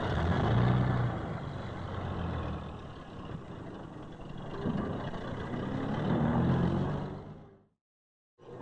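A lorry works at a Cornish port, its diesel engine rumbling and whining at mid distance for several seconds before cutting off abruptly.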